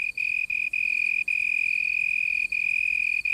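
A male cricket calls from a leaf, a steady, loud high-pitched trill with a few brief breaks, close and alone with no talk.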